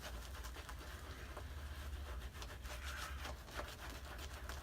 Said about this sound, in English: So, I'm going to load up on the soap again.